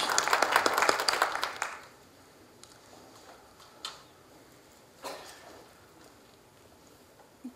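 A brief burst of audience applause from many hands at a university commemorative ceremony, fading out within two seconds, followed by a quiet room with a few scattered knocks.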